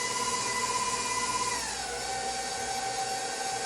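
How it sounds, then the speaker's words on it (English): An electric blender mixes sugar cookie dough with a continuous whirring motor drone whose pitch drops partway through as the load changes. The sound is steady and close, with no talk. "we're using a blender, but you can use a regular bowl and a spoon at home."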